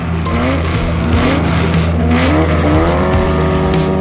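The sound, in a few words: 1956 Porsche 550A Spyder race car engine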